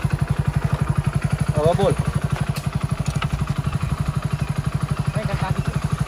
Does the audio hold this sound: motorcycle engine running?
yes